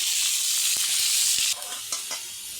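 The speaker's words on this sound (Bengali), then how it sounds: "এরকম করে ভেজে নেব। ভালো করে ভেজে নেব আলুটা।" Sliced potato sticks sizzle steadily in hot oil, a bright frying hiss that dips after a moment, with a few soft stirring clinks.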